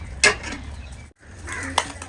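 A lid is set onto a cooking pot with a sharp metallic clink, followed by a second softer clatter a moment later, near and clear over low background noise.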